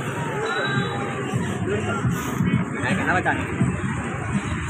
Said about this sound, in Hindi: शाम को काफ़ी भीड़ रहती है